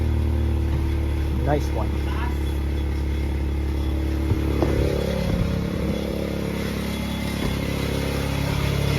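A Nissan project car's engine idles through a cold start, with a steady low drone and some clatter that runs throughout while people talk briefly nearby.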